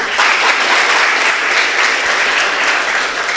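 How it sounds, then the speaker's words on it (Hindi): Loud, close applause from a student audience at a memory management talk, many hands clapping in a full, sustained burst with no speech over it. "अपने लिए तालियां बजाओ"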